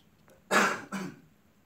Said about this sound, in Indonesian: Sorry, lagi musim batuk.